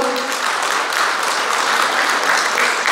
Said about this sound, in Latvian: Aplausi viņām par to.